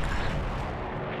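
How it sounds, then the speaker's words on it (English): An internal explosion aboard a warship in a naval war game: a loud, sustained low rumble with dense crackling bursts lasting over a second, heard alone without talk. "Internal explosion."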